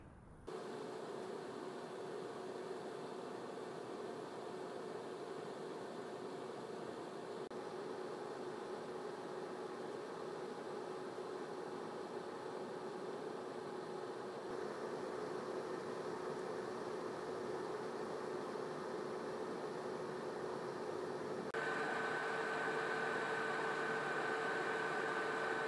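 A Corsair H5 SF low-profile liquid CPU cooler with a dense-finned radiator and blower-style fan runs continuously: a steady, even whoosh with faint tonal whine, unchanging for the whole stretch, no voices.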